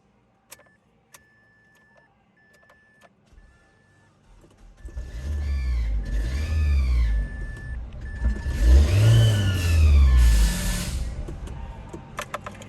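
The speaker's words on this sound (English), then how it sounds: "had a really weird like whirring noise that you guys probably heard" After a few faint clicks and a repeating beep, a Mazda Protege engine with no belts fitted cranks and starts, running with rising revs and a high, whirring whine over its rumble.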